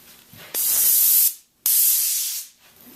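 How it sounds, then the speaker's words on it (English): An airless paint sprayer fires two loud bursts of hissing spray onto a piece of cardboard in test passes, each lasting under a second with a short silent gap between. "have a piece of cardboard handy, something that you can do a couple test sprays on"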